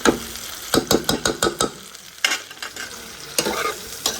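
Onions frying in a pan for rougail saucisse, with a loud close sizzle and a quick run of sharp spoon scrapes and knocks against the pan, then a few more stirring strokes after a pause, no talking.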